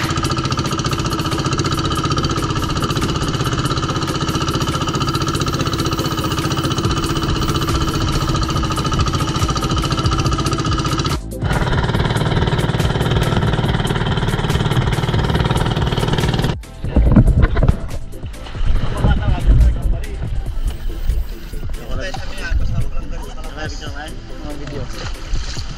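A fishing boat engine drones steadily with a strong low rumble at slow speed, then turns rougher and choppier partway through, with wind and waves mixed in.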